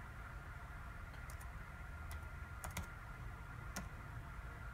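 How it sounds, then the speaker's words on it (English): A few sparse key presses on a computer keyboard enter a code, faint isolated clicks spread over a steady low background hum, with no talking. "Do I actually have to type it on my keyboard?"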